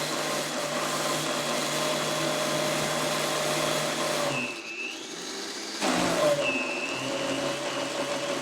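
A blender whirring steadily while blending homemade pesto ingredients, a loud, constant motor drone that briefly drops out and starts again partway through.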